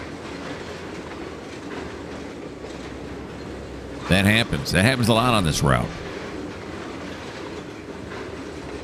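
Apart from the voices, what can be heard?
trains running in the video game Trainz 2022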